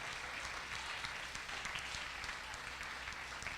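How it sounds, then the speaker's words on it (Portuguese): Church congregation applauding the Lord: a continuous, even roar of many hands clapping, somewhat distant and faint, with no gaps. "Se irmãos quiserem, aplaude ao Senhor."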